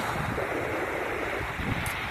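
Ocean waves wash onto a beach in a steady, rushing roar mixed with wind buffeting the microphone, loud and continuous with no voices.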